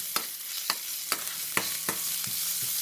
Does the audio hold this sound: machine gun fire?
no